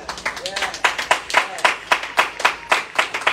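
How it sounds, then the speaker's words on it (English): A church congregation claps hands in a steady rhythmic beat, sharp near claps repeating about every third of a second, with voices calling out briefly beneath them. "Clap your hands to the Lord."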